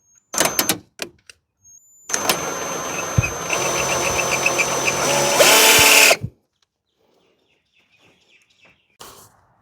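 A power tool whirs briefly while tightening a car battery holder, a close buzzing burst lasting about four seconds that rises before cutting off, with a few clicks beforehand and a faint tap afterward.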